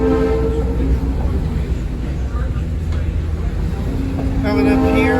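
Diesel excursion train rolling on rails, with a loud, steady engine drone and rumbling wheels, and horn-like tones near the end.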